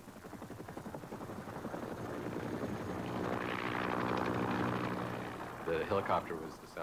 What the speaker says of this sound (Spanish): El sonido del helicóptero era lo que el soldado de tierra odiaba y quería más.